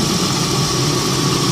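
A car engine with a head gasket repaired using Blue Devil sealant idles steadily, a constant low rumble with an even mechanical hum, close and unbroken, with no voices.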